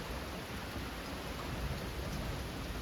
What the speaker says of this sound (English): Thunder, you hear the thunder? Love that sound.